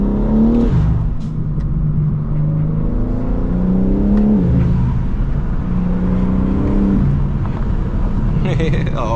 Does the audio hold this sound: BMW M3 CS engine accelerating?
yes